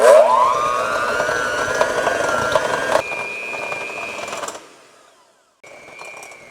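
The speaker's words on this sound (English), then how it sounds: "we're going to cream our sugar and butter together" An electric mixer creams sugar and softened butter for a rhubarb sour cream coffee cake: a steady motor whine close by that shifts pitch around three seconds, cuts out briefly, then starts again, with no talking.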